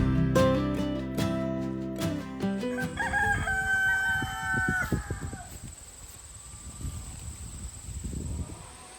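A rooster crows loudly nearby, followed by softer clucking and rustling from chickens in the background.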